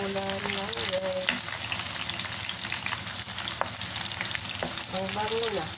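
Onion sizzles steadily in a hot pan for a simple home-cooked dish, a close, continuous crackling fry with occasional stirring scrapes.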